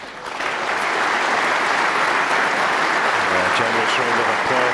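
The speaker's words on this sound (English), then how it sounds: "Generous round of applause, but the disappointed Kyron goes back to his chair." Sustained applause from the audience at a snooker World Championship semi-final, steady and full throughout after a brief lead-in, with a commentator's voice faintly over the clapping near the end.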